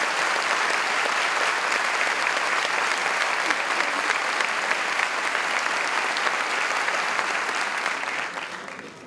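Sustained audience applause fills a university talk hall, dense and steady throughout, then tapering slightly at the very end.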